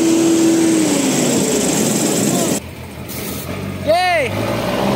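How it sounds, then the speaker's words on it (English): An M35A2 6x6 military truck grinding through mud in stormy weather, a loud steady engine drone with a gear whine falling in pitch, then a brief drop, as people shout and talk over it. "If the truck stops, it will be stuck in mud."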